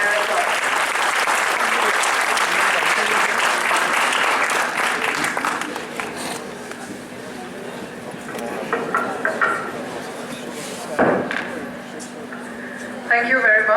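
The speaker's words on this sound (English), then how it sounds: "A big round of applause for a lady who continues to inspire us all." A big round of applause from an audience at a college event for an IPS officer, dense at first and then thinning out, followed by scattered claps and a voice starting to speak.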